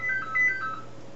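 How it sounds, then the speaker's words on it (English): Ringback tone of a Maxcom MM432 landline phone calling another handset, heard as a faint electronic ringing with steady tonal bursts over low hum, alone without talk. "Now you'll hear the other phone ringing."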